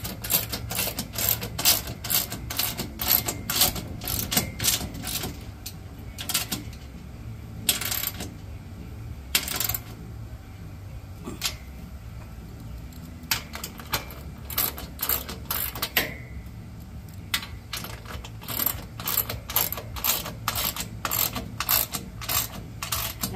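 Hand ratchet tightening bolts on an Equipment Defender rack of a landscaping trailer, with rapid close clicking bursts repeated throughout and short pauses between runs.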